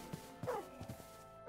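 Short, sharp yips and woofs from a tamed Minecraft wolf-dog, several quick barks in an uneven burst, fairly close and clear with a faint steady game hum behind, no talking.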